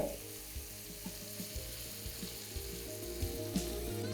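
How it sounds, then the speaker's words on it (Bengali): Chopped fenugreek leaves fry in melted butter over medium flame, giving a steady low sizzle with soft periodic stirring scrapes, close and fairly quiet, with no talk. "তারপর ফ্লেমটাকে মিডিয়াম করে এটাকে ভালো করে আপনাদের ভেজে নিতে হবে"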